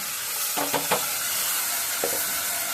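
A spiced mixture hits a hot pan and is stirred. Under a constant sizzling hiss, a quick cluster of spatula scrapes sounds near the start and another comes a moment later. No one speaks.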